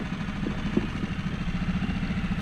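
A dinghy outboard engine runs steadily at three-quarter throttle, a low, continuous mid-pitched drone with a faint rhythmic pulsing, fairly close and alone with no voices.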